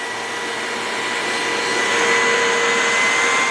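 A Bissell PowerForce Compact Turbo vacuum cleaner runs with a steady, loud motor whine and airflow roar that rises slightly in strength partway through, with no other sounds.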